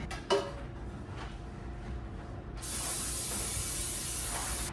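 Cooking spray hisses onto a 9x5 inch metal loaf pan in a home kitchen, a short tap early on and then a steady, fairly close spray through the second half with no talking.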